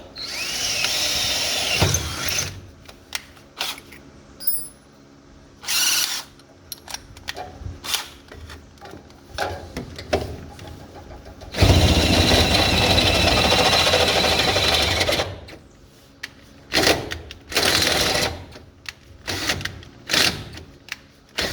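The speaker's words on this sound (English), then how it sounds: "I'm gonna drill it from this side and then go around there and drill it from that side" A power drill whines drilling metal on a 1940 Chevy Coupe transmission crossmember, in several bursts, long continuous runs broken by short stops and restarts, close by with no talking.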